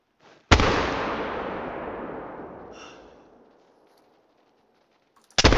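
A black powder rifle in the Call of the Wild hunting game fires one loud, sharp blast at close range that rolls out into a long, fading boom, then a second shot bursts in right at the end.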